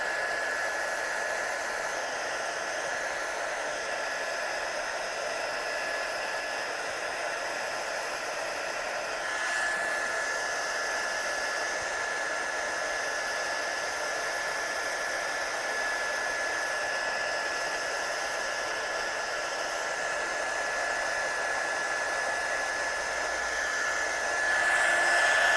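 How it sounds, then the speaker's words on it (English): A heat gun blows steadily and loudly up close while heating embossing powder on an image, a constant whooshing hiss that holds unbroken for the whole stretch. "So get your heat gun good and hot, and then when you place it straight on the image"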